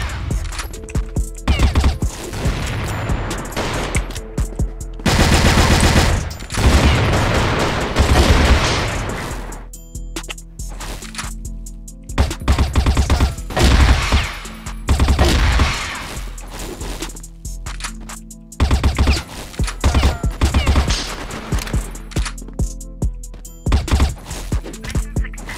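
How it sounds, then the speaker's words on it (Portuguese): Loud bursts of M4 rifle fire in a shooter video game crack out in rapid clusters, broken by short quiet gaps, with heavy booms and impacts mixed in over about twenty-five seconds. "M4 dá pra você dar de 3 em 3, 3, 3 tiros de rajada."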